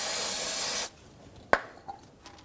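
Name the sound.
spraying brake parts cleaner on a Hyundai Sonata caliper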